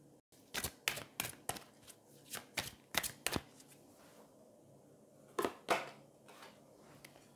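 Someone shuffles a deck of angel cards close up, producing a series of crisp, papery riffles and taps in uneven bursts, with a short pause before a final few flicks.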